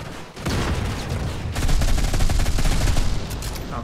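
Rapid bursts of gunfire from a gun in the video game Modern Combat 5, dense and continuous with dull low thumps beneath the crackle.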